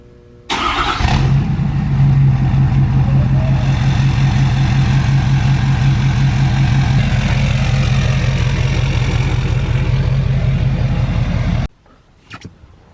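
Ford F250 Powerstroke diesel with a 5-inch exhaust cranking and firing up, then a loud, steady rumbling idle with a pulsing clatter for about eleven seconds before cutting off.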